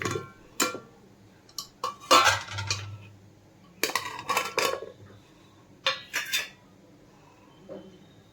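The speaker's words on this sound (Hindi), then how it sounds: "अब मैं इन सब सब्जियों को कुकर में डाल रही हूँ।" Chopped vegetables are tipped into a pressure cooker in a home kitchen, producing a scattered series of clattering metallic knocks and clinks, some clustered together and others isolated, close by with quiet gaps between.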